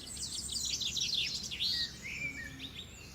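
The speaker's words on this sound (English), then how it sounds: "It's a bird." A green bird chirps in a quick, bright series of high tweets and trills, fairly close and alone over a soft background hush.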